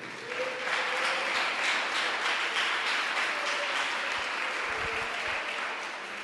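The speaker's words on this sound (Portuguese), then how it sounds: "Dá uma salva de palmas para Jesus." Church congregation applauding, a dense steady wash of clapping from many hands that swells and holds for several seconds before easing slightly, heard from a moderate distance inside the building.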